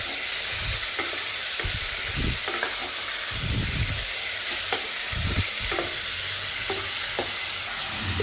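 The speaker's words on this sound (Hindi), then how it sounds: "मटन का कलर चेंज होने तक इसको भून लीजिए अच्छी तरह से" Mutton pieces fry in a hot pan for a pressure-cooker curry, a steady sizzle broken by repeated scraping stirs of the spoon, close and continuous with no talking.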